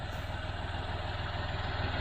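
A John Deere 5055D tractor engine idles close by with a steady, even low throb that holds unchanged throughout.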